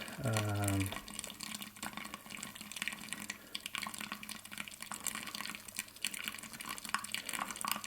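Water pours steadily from a water boiler onto a coffee bed in a Wilfa Svart manual brewer, a continuous close hiss and trickle running the whole time after a brief voice at the start.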